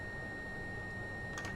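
Train cab alarm in Train Sim World 5 sounding as a steady, unbroken electronic tone over a low cab hum, with a couple of brief clicks near the end.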